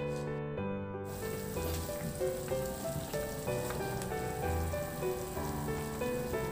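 Pork liempo with tomato, salt and pepper cooking in a covered pan, a constant soft sizzle and bubbling hiss under a steady harmonic background hum, with no talking.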